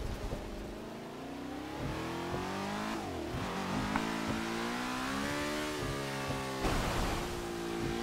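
Lotus 67 race car in a racing game at Brands Hatch in the rain, its engine revving loudly and continuously, pitch climbing and dropping through gear changes and corners, with no talk.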